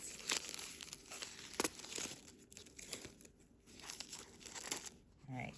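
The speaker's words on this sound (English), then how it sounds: "I got the tissue paper off" A package is unwrapped and tissue paper is pulled away, giving close, busy crinkling and tearing rustles in irregular bursts, with soft talking in between.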